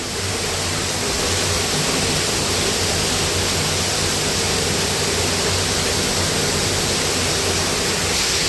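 Water flows steadily through a cave temple, a loud, even rushing wash that fills the whole stretch without pause or voices.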